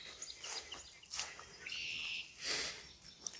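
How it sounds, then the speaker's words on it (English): Birds call in the trees during a quiet walk: a few faint, scattered chirps and tweets, thin and distant, with soft background rustle and no talking. "Walking where I can only hear bugs, birds, and animals in the trees"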